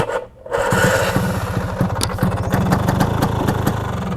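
Excel 200 touring motorcycle fitted with full aftermarket parts and a modified block, its engine catching after a short pause and settling into a loud, steady, throbbing idle close by.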